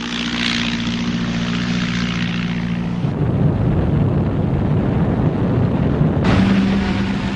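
Gloster Gladiator fighter biplane propeller engine droning steadily and fairly loud, a low-pitched hum that shifts in tone partway through as the aircraft passes, with no voices.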